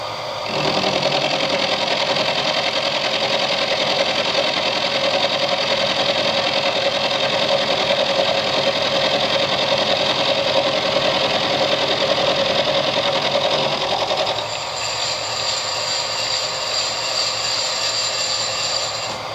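Metal lathe running steadily while turning a tailstock adjuster bolt, a continuous whirring machine drone that drops in level and tone toward the end as it slows or is switched off.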